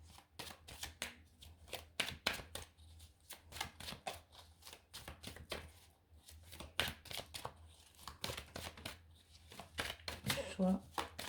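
Tarot cards are shuffled by hand in quick, crisp riffling bursts, close and clear, over a soft steady hum.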